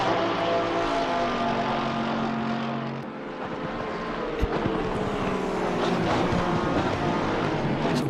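Race cars at Mount Panorama, coming down the mountain and along the back straight, give a loud, continuous engine roar with rising and falling pitch as they pass, steady throughout, with no talking.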